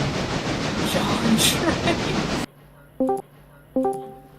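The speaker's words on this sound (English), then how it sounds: "I've determined that footage is of a train" A train rumbles by with rail clatter and hiss for a couple of seconds, then cuts off abruptly into near silence broken by two short tonal electronic chimes.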